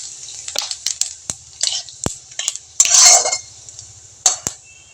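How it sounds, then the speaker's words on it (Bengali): Dried red chillies and whole white cumin seeds tempering in hot oil, with sharp crackles and pops scattered over a few seconds, close up, and the occasional clink of a utensil against the pan. "আমি শুকনো লঙ্কা ফোড়ন দিয়ে দিচ্ছি। গোটা সাদা জিরে ফোড়ন দিয়ে দিচ্ছি।"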